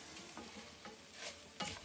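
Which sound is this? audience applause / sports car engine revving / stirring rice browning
stirring rice browning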